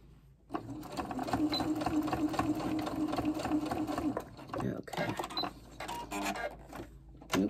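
Embroidery sewing machine stitching a quilted bowl cozy in the hoop, a busy mechanical whirring and clatter that runs steadily, then breaks into shorter bursts as the stitching turns and ends, with faint talk.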